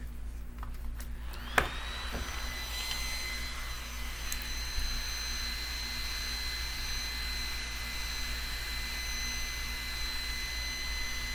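A small personal face fan blows air with a steady, close whir and a thin high tonal whine, running continuously after a brief click at the start.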